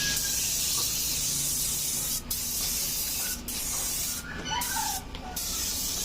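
Aerosol spray paint hisses from a can in a steady, loud, continuous spray across the whole stretch, with a few brief breaks and faint background clatter.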